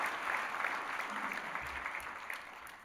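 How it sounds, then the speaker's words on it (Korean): Church congregation applauding together during a Sunday worship service, a steady, dense wash of clapping that holds for the full few seconds at moderate volume. "이 모든 분들을 위해서 격려와 축하의 박수 한번 드리겠습니다"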